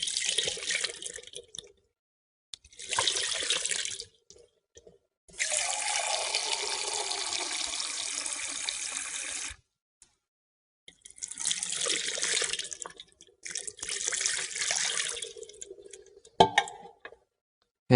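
Water poured from a vessel over exposed hands during Jewish ritual hand washing, splashing into a sink in several separate pours with short pauses between them, close and clear with no talk.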